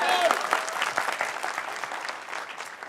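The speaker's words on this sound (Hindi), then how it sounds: "तो ताली बजना चाहिए ना" An indoor audience at an Atomy India felicitation event bursts into sustained applause, dense clapping that continues steadily throughout, fairly close, with a little speech over it.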